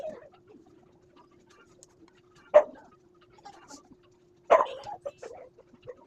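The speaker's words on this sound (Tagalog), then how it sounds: "ewan ko kung matatapos pa yung tahol-tahol ng aso na yan" A dog barks in two short, sharp bursts a couple of seconds apart, moderately close against a quiet background with a faint steady hum.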